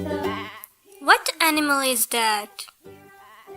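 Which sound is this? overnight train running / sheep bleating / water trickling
sheep bleating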